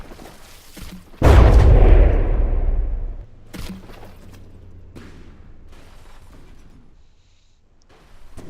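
A heavy naval shell fires in a paddleship battle video game with one loud close boom and a long rumbling decay, then a few fainter distant impacts and clanks as things quiet down.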